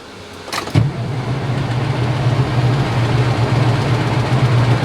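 A semi truck's engine cranks briefly and catches, then settles into a steady, loud, low rumbling idle that continues to the end, close by.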